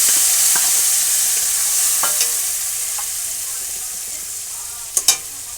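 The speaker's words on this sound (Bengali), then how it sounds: "টমেটো আর কাজু পোস্তর যে পেস্টটা সেটা দিয়ে দেবো।" Tomato and cashew-poppy seed paste goes into a hot pan of oil with black cumin, giving a steady sizzle and frying hiss with light stirring scrapes and a couple of sharp clinks near the end.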